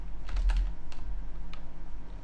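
Keys on a computer keyboard are tapped in quick, uneven bursts, a handful of close, crisp clicks over a low steady hum, with no talking.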